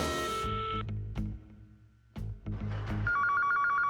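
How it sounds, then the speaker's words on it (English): A telephone rings in a children's cartoon: electronic bell-like ring tones sound in bursts separated by pauses, then a warbling trill at the end, fairly loud and close, with no talk. "I got a phone. Let's give him a ring."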